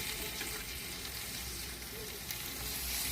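Onion, garlic, ginger, tomato and potato masala frying in a pan for fish curry, a continuous close sizzle with soft stirring, no voices.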